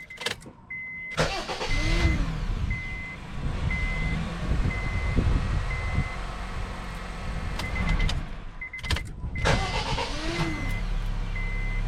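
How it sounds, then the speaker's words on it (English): A 2011 Honda Fit's engine cranks and catches on a jumper pack, then settles into a steady idle; a second crank follows later, with faint repeating beeps in the background. "So I'm going to be starting up the car."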